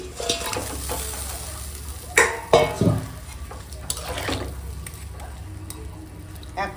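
Tengra fish and eggplant that were fried earlier cook in a pan with a steady sizzle, while a utensil makes a cluster of sharp clinks and scrapes against the metal partway through.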